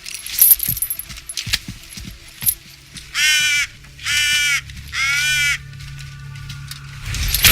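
A raven in the Viking-era game Assassin's Creed Valhalla gives three harsh, loud caws in a row. Faint clicks and jingles come before the caws.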